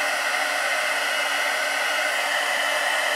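A heat gun blows hot air over paper leaves for heat embossing, a steady loud hiss with a whining hum that stays constant and unbroken close by throughout.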